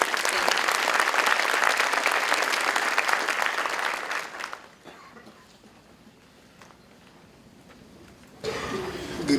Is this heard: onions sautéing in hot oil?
no